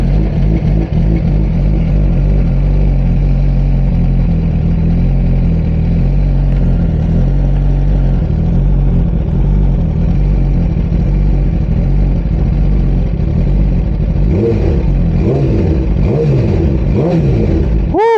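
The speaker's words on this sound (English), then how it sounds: "listen to this cold start." A Suzuki GSX-R 1000 motorcycle fires up from a cold start on a hot, humid day, its engine idling loud and close with a steady throbbing rumble, then revving in a few quick blips near the end.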